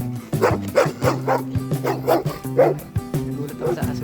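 A dog barks repeatedly in close, rapid yips and bow-wows, with some whimpering, on a snowy outing, loud throughout the short stretch.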